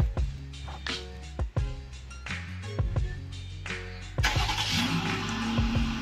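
A Jeep Gladiator's 3.5-liter V6 engine starting by remote start, with a crank and catch around four seconds in, then settling into a steady near idle after earlier mechanical clicks.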